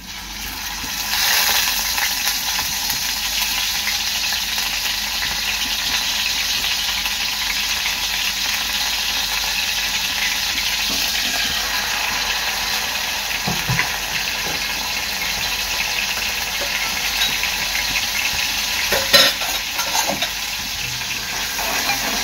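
A ground paste of coriander, cumin and chili sizzling in a pan for fasting-style potato bhaji, a continuous close hiss with faint stirring scrapes and no voices.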